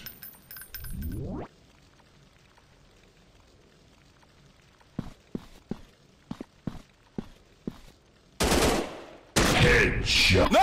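Gunshots in an FPS shooting game come as a series of sharp, separate cracks at a steady rhythm, followed by louder, denser bursts of fire near the end, after a quiet stretch with a brief rising tone.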